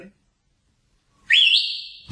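A loud human whistle rises into a single long, sustained shrill tone lasting under a second, preceded by a moment of silence and followed by the start of a cheer or voice.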